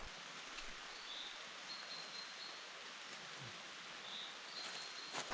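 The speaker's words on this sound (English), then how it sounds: "the rain is still coming down" Steady rain falls outdoors on a cycling trip toward Ukraine, a soft, even hiss with faint patter and a few distant chirps, with no voices.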